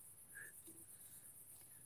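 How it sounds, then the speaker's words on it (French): Crickets chirp faintly at nightfall in Corsica, a thin steady high trill running throughout a quiet outdoor scene with a few small scattered sounds. "c'est cool, le son des grillons"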